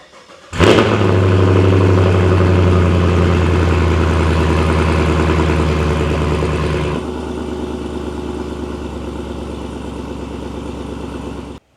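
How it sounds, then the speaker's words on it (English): Cold start of a Chevrolet Camaro SS with the LT1 V8 and modified exhaust: a sharp starter crank and loud bark, then a high, steady fast idle that drops to a lower, rumbling idle partway through. "I'm really looking forward to seeing what this thing sounds like with a cold start."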